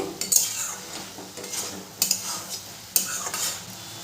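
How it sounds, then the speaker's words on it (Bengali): A spatula scrapes and knocks through banana flower curry with potatoes in a pan. Three distinct stirring strokes sound over a soft background sizzle, close and moderately quiet. "খুন্তি দিয়ে একটু ভালো করে নেড়ে দেবো"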